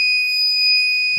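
A USB power meter, connected to a lithium charger and an AGM battery, gives one loud, steady electronic beep that holds for just over a second.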